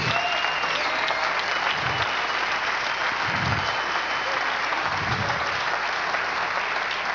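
Church congregation applauding during a Spanish-language sermon, a steady, dense roar of clapping sustained throughout, with faint low thumps underneath.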